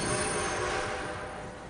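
A train rolls along steadily in the Red Dead video game, a dense continuous rumble and clatter of wheels on rails, loud and near throughout with no talk.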